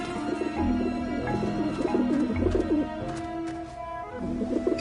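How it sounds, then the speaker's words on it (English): In the video game Grim Fandango Remastered, several pigeons coo in rolling, overlapping burbles over a continuous low game ambience, fairly close and steady throughout. "I don't like the looks of those pigeons."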